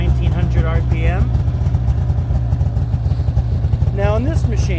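A machine's engine starts at the turn of a key and settles into a steady idle around 1800 to 1900 RPM, a close, continuous low rumble under someone talking.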